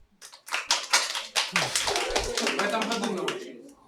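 An audience at an improvised comedy show claps, beginning with a few scattered claps that quickly swell into dense, steady applause, with a voice speaking over it.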